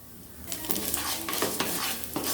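Gobindobhog rice fries dry in a wok, a hissing sizzle rising after a quiet start, broken by repeated scraping and clinking stirs close by, no speech.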